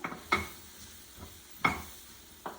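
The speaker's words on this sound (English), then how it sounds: "So we are going to just get them sauteed in this butter, and you just wanna saute them until they turn golden brown." Mushrooms sautéing in butter for chicken Marsala, a few sharp stirring scrapes against the pan over a faint, low sizzle, close and fairly quiet with no voices.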